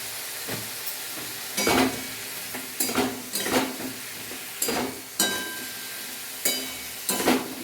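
Bitter gourd and potato fry with salt and turmeric in a pan, a steady close sizzle broken by regular scraping stirs every second or so.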